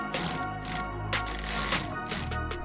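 Screws on a Corvette C8 Stingray front splitter get their final tightening, giving a dense, steady mechanical grinding and whirring like a ratchet or driver, loud and close throughout.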